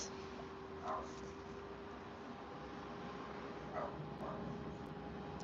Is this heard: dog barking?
yes